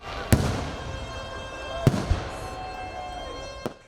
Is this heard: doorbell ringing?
no